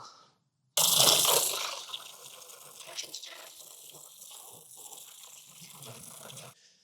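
A sudden forceful blast of running water spraying and splashing against Vax Platinum Smart Wash carpet cleaner parts, close by, tapering into a steadier gushing rinse before cutting off.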